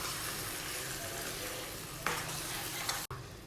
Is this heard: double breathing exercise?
no